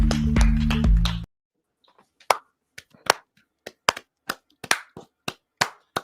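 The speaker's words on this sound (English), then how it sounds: "This is my clap for all the things" Slow, sharp hand claps by one person follow a burst of music, spaced roughly half a second apart, a dozen or so close and alone.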